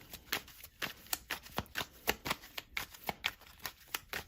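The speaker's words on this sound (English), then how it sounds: "I just shuffled that" Tarot cards are riffled and shuffled by hand close to the microphone, a quick run of crisp, evenly spaced flicks and slaps with no talking.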